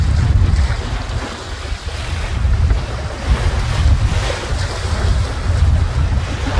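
Choppy, confused sea slaps and washes against a Noelex 30 sailing boat heading from Keppel Bay Marina, under constant roaring wind noise, with no speech.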